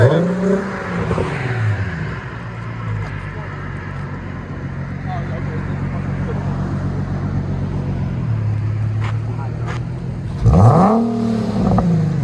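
A 2014 Infiniti Q50 V6 with dual Borla Pro XS exhaust and muffler delete drones steadily at high revs against the rev limiter, then surges in a sharp rev near the end, close and loud.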